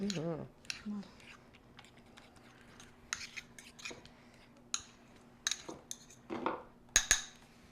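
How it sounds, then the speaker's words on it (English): A metal fork stirs and taps through wet, rehydrated dried kelp seaweed, giving faint scattered clicks and soft squelchy scrapes that come in small clusters, with a voice talking lightly in between. "Fork here to mix this up so you can see what it looks like"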